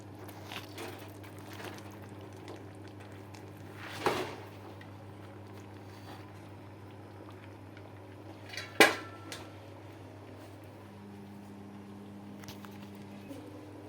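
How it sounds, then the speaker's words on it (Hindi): Rice goes into a pot of chicken degi biryani: two brief clattering bursts of grains and metal against the pot over a quiet, humming kitchen background. "मैं डालने लगी हूँ इसमें चावल।"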